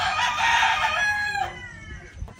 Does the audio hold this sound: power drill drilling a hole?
no